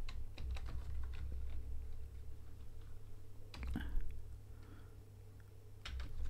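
Rapid keystrokes on a computer keyboard entering a variable name while setting up a switch for the TBM 930 in Microsoft Flight Simulator, bursts of close clicking over a low steady hum, with a brief pause and a louder clatter near the end.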